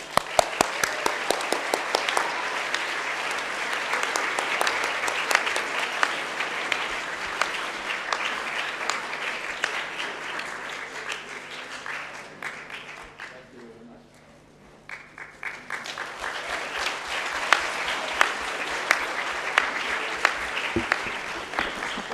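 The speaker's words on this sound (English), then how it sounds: "give a big applause to Mr. Chris, please" An audience at a school awards ceremony gives sustained, loud applause for a departing staff member, the clapping dipping briefly midway before swelling back strong and continuing to the end, with some talk mixed in.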